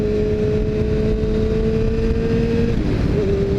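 A Yamaha R6 sport motorcycle engine holding a steady, loud high-pitched drone while riding, dipping slightly in pitch near the end amid constant wind rush.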